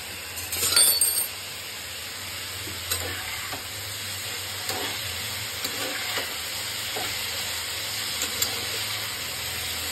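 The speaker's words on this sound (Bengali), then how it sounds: "আর এদিকে দেখি আলু ভাজা খানটার কি অবস্থা।" Potatoes frying in a pan in a home kitchen on a winter morning, a continuous close sizzle with occasional spatula scrapes and a brief louder clatter near the start.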